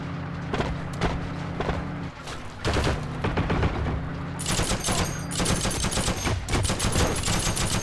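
Heavy gunfire in the war shooter Heroes & Generals, with continuous rattling automatic bursts and loud shots, briefly dipping before intensifying into denser, sharper fire near the end.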